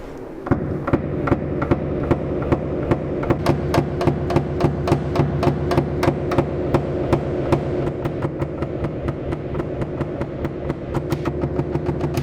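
Repeated sharp hammer blows straightening car body sheet metal on a Lanos, a steady rhythm of ringing metallic strikes close up, with some gaps and faster bursts.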